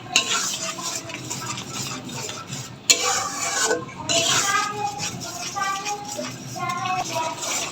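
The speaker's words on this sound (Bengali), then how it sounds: "আমি টমেটো সস দিয়ে ভালোভাবে মিশিয়ে নিচ্ছি।" Biryani masala being stirred with tomato sauce in a pot, a spoon scraping and clinking against the metal over a soft sizzle, with someone talking throughout.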